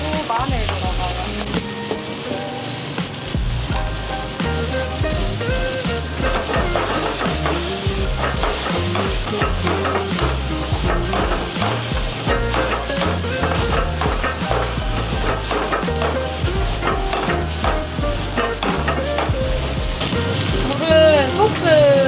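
Mushrooms, onion and garlic stir-fried in a pan in a restaurant kitchen in Yeongcheon, Korea: a continuous loud sizzle with scraping stirring strokes throughout.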